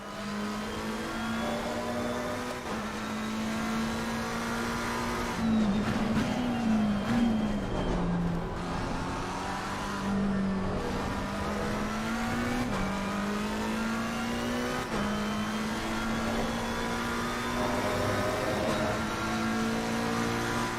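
A race car engine in the sim racing game Assetto Corsa Competizione, droning steadily at high revs with repeated rises and falls in pitch through gear changes, continuous and loud throughout.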